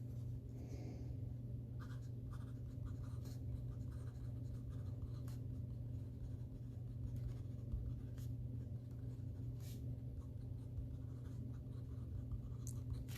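A pen writes across Kokuyo ME Field Notebook paper with a faint, steady scratch that runs continuously under a constant low room hum.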